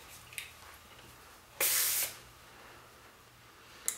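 Hairspray is misted in one short, steady hiss of about half a second onto curled, wand-styled waves, with a couple of faint clicks before and after in a quiet room.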